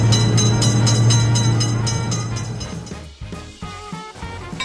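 A train rumbles loudly through a railroad crossing in a video game set on an Indian railway, with a steady low drone and rhythmic clatter that thins out into scattered clanks near the end.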